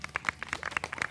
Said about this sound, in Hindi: ताली बजा दो इसके लिए।